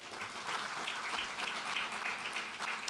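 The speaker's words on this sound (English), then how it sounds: "Big round of applause for Firefly." Audience applause at a NASA event celebrating the company Firefly, a steady dense wash of many hands clapping that holds evenly throughout at moderate level, no voices over it.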